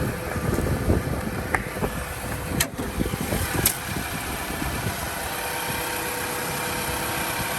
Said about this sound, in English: There's the Endurance V8 in all its glory.